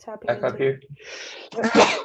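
A single sharp sneeze bursts out near the end, close and loud, after a person speaks briefly during a live forex trading session at a desk.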